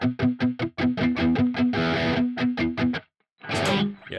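Electric guitar notes played with a palm mute pressed down too hard, so each one rings out like a fretted note: a quick run of distinct plucked tones with effects and distortion, then a held chord, a short gap and a final strum.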